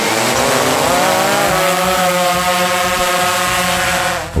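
A DJI Phantom 3 Pro drone lifts off and flies in an urban area, its rotors giving a steady, loud, close buzzing whine that holds constant before tapering off at the end.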